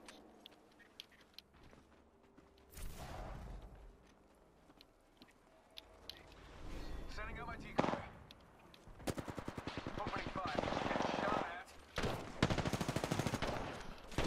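Bursts of rapid automatic gunfire from the video game Apex Legends crackle in short and long volleys, loud and close, with a player speaking between shots.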